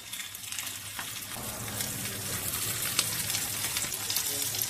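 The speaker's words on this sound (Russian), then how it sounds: "Они жарятся быстро." Meat-filled flatbreads fry in a pan over reduced heat, giving a steady, close crackling sizzle that holds at an even level throughout with no voices.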